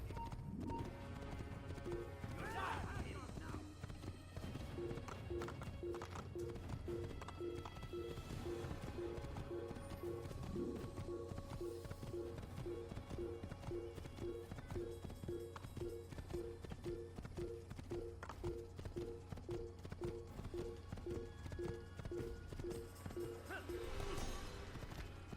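Steady, rhythmic hoofbeats of a horse clip-clopping at a walk through the whole stretch in the Assassin's Creed video game, fairly quiet under a low ambient hum, with a brief whinny near the start.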